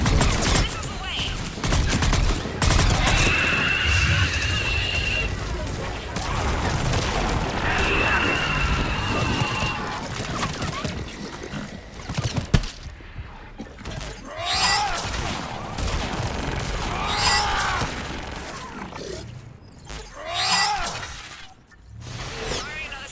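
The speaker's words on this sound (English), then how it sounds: "Missiles away." Mass Effect 3 combat with a salvo of missiles launching and exploding, loud booms, shattering crashes and rumbling blasts stretching over many seconds, with voices talking over parts of it.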